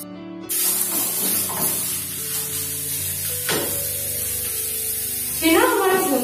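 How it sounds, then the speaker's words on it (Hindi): Crumbled chhena (paneer) lightly roasting in a pan for kalakand, a steady close sizzle and hiss with soft stirring scrapes, briefly louder near the end, with no voices over it. "छेना को हम हल्का सा भून लेंगे।"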